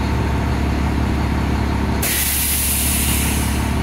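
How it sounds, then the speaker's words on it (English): A converted school bus air brake system reaches pressure and the governor purge valve releases with a sudden loud hiss that cuts in over the steady engine idle and continues to the end. "if you listen carefully, you will hear the hiss as the governor purge release runs."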